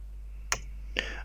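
Two sharp, isolated clicks of a computer keyboard as a directory command is typed in the Windows command line, spaced about half a second apart over a steady low hum.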